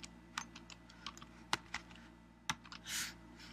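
Keys clatter on a computer keyboard while a script is formatted in MS Word, with irregular close clicks, a few harder enter-key strikes and a short soft burst near the end.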